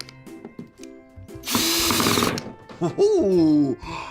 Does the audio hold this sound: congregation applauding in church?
no